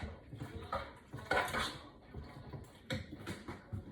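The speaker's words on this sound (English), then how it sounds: "You're gonna mix very well." Chicken and rice being stirred in a pot: quiet scraping and clinking of a utensil against the cookware, with a few louder knocks in between.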